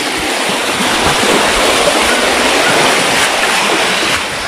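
Floodwater pours through an overflowing piggery farm in a loud, constant roar of rushing water, close and unbroken.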